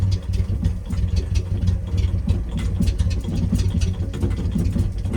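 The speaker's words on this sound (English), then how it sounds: "We're still dieseling. The key is completely off." A 1979 MG engine keeps running on after the key is switched off, a steady rough mid-low chug with uneven pulsing that carries on throughout.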